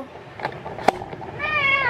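A cat being taken home from Korea meows close to the microphone, with a drawn-out, clearly pitched meow near the end after a few soft clatters and a brief knock.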